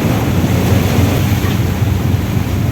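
Sea waves crash and churn close around a boat crossing between Mindoro and Batangas, a loud, dense wash of surging water with wind rumble and no voices.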